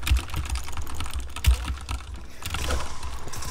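A computer keyboard clatters under fast, steady typing during a Fortnite game, with close, busy keystrokes and a few heavier thumps on the keys.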